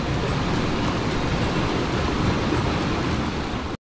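The Trubia river in Asturias rushes past in a steady, dense roar of flowing water, loud and continuous, with no voices.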